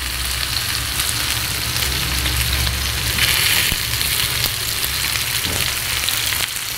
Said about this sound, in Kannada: ಈ ಕಡೆ ಇದು ಫ್ರೈ ಆಗ್ತಾ ಇರಲಿ